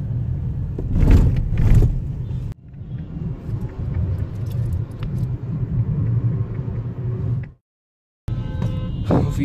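A car rumbles through city traffic on its way, stopping at a signal. The low engine and road noise is steady and close from inside, with a couple of louder surges, a cut, and a brief silence near the end.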